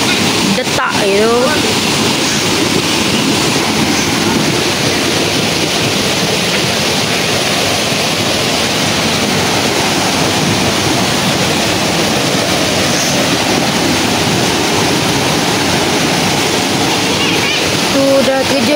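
Steady, dense roar of rushing water from a waterfall near a resort at Pasir Putih Kalumpang, loud and continuous throughout with brief voices near the start and end.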